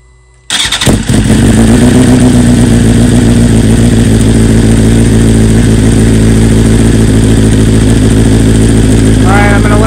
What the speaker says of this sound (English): let's go start up the bike